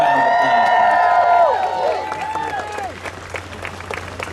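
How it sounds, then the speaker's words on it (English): Crowd applause with cheering and whoops at EPCOT, loud at first and then thinning as the clapping tapers off. "Let's give them all a huge round"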